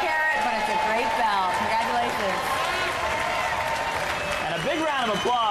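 A studio audience applauds Robot Wars champions Hannibal and Bunny Attack at a televised robot-combat show. The clapping runs steadily throughout under loud talk and tonal sound.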